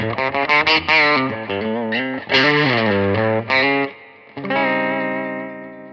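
An electric guitar with a boost effect switched on plays a quick run, then loud distorted chords ring out and sustain, boosted and thick, fading slowly between strums.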